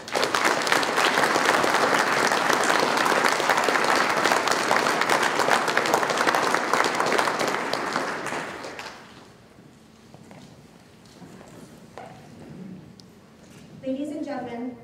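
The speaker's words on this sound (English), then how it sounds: "please join in a round of applause for these men and women who have guided these Chief Petty" Loud audience applause fills a Navy chief petty officer pinning ceremony at Naval Medical Center Camp Lejeune, steady for about nine seconds before fading into quiet room noise with a few faint voices near the end.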